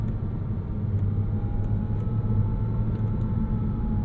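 A 2006 Porsche Cayman S on a twisty road, heard from inside as a steady, continuous engine drone and low road rumble, with no talking.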